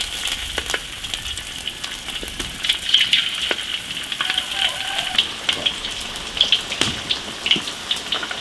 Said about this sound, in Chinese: 鱼下锅炸。